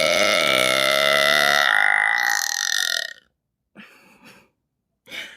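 A long, loud, drawn-out burp with a strong resonant tone carries on for about three seconds, followed by two shorter, quieter burps after brief pauses.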